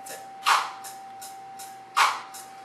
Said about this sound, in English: So right now what you're hearing is just the claps.